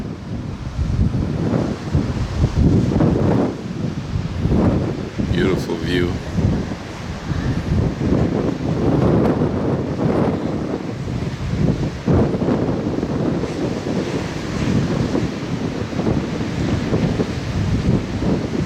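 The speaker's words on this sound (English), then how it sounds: "It's a little windy today." Strong, gusty wind off the Atlantic Ocean buffets the microphone on a golf course with a roaring rush, surf-like noise underneath, while a person briefly speaks over it.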